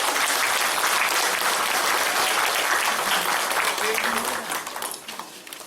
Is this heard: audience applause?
yes